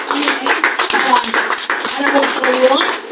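A church congregation claps loudly and steadily, with voices and cheering mixed in under the applause throughout.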